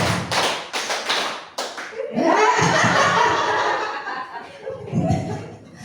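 A group claps in a counted rhythm during a positive-culture school session, with sharp, loud claps at the start followed by a dense burst of clapping mixed with chuckles and voices, all close and energetic.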